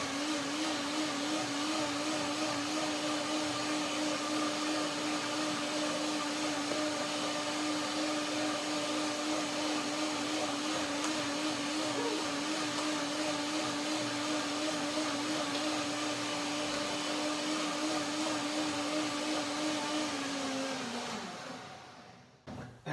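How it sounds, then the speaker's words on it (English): A blender purees kiwi, grapes and ginger cashew cream in one long, steady, loud motor whir with a constant pitch, running alone for about twenty seconds before spinning down and stopping. "One more blender dance."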